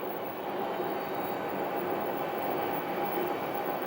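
Alaska Airlines Boeing 737 in special livery passing at an airport, a steady, moderately loud broadband engine rumble and roar, sustained without voices.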